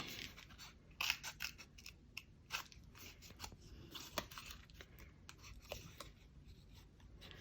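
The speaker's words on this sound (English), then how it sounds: "So I'm going to cut this middle bit out as best I can." Scissors cut out the middle of a paper photo slide, making close, quiet snips and crisp scratchy paper rustles in an irregular run, with no talking.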